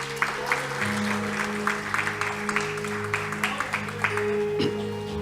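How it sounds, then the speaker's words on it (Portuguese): Church congregation clapping during a Sunday night service, steady crowd applause over held keyboard chords, with some voices beneath. "Agora, aplauda a sua presença nessa noite."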